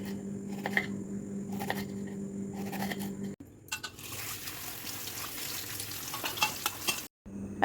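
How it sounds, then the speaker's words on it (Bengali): Chopped onion and whole cumin fry in refined oil in a frying pan, starting as a light crackle with clicks and then swelling into a loud, steady sizzle as the onion goes in, with a short gap near the end. "একটা ফ্রাইং প্যানে আমি হাফ টিস্পুন মতো গোটা জিরে দিয়েছি, আর রিফাইন অয়েল কিছুটা দিয়ে ঝুড়ো করে কাটা যে পেঁয়াজ সেটা আমি অ্যাড করে দিলাম।"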